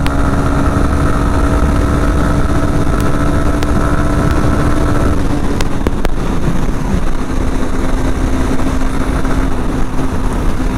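A Honda Hornet 2.0 motorcycle engine pulling hard through the gears at speed, a loud steady drone with wind roar that drops in pitch at a gearshift midway, then keeps droning.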